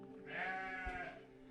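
A single sheep in a pen gives one drawn-out bleat, fairly quiet and slightly distant, with no other noise around it.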